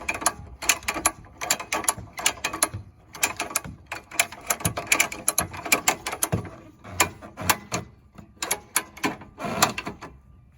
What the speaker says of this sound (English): Start rolling the winch on.